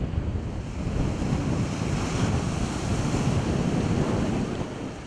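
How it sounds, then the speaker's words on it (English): Strong wind roars across the mic on the coast during beach fishing, a loud, steady rushing blast mixed with the wash of surf, with no speech. "A blasting wind."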